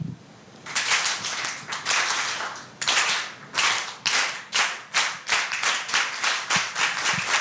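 Audience at a water forum clapping on cue: a sustained burst of applause, then rhythmic bursts of unison claps in quick regular pulses, loud and close, with no speech.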